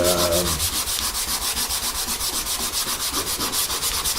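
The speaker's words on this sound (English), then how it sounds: "I'm just going to use a quick 220 and do a sand off on that." Steady back-and-forth sanding of guitar body wood with 220-grit sandpaper, rhythmic rubbing strokes repeating about four times a second, close and fairly loud with no talking.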